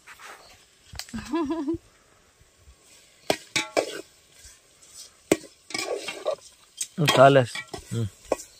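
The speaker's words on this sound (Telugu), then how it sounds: "అలా బాగా కలుపుకోవాలా మొత్తం కలిసేలా" A brinjal tamarind curry being stirred in a pot outdoors in a forest, with scattered scraping and clanking strokes of a spoon against the pot, close up, alongside brief bursts of speech.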